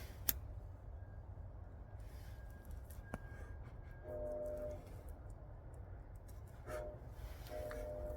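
A train passing at a distance near a winter stealth campsite, a low steady rumble with faint horn-like tonal bursts recurring a few times over several seconds.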